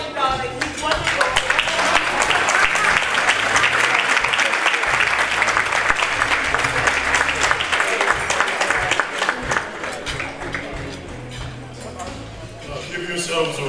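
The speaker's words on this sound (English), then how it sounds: "Keep applauding, darling." A crowd at a women's awards event applauds loudly and continuously, with thick, rapid clapping that dips and thins near the end, while a voice speaks over the clapping.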